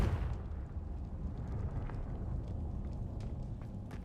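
A Confringo spell explosion in Hogwarts Legacy, heard as a sustained rumbling blast with crackling debris that carries on for several seconds, loud and close, with no talk.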